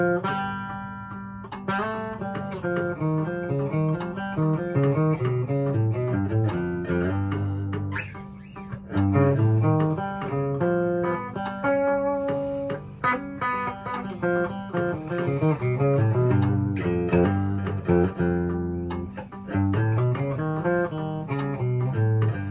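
A melodic instrumental passage, notes stepping evenly up and down a six-note scale with a dreamy, unresolved color, played steadily and fairly loud with no talking.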